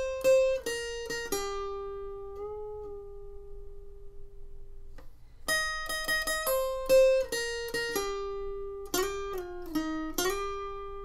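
Electric guitar plays the intro lead riff of a song, clean picked notes in quick bursts with sustained bends and held tones, a pause midway, then the phrase repeats, solo and close with no talking.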